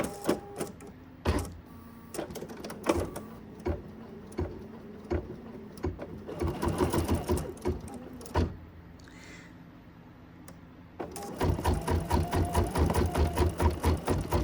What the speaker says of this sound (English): we're looking at about 18 minutes of stitching these little fans on the body and the head of my little sheep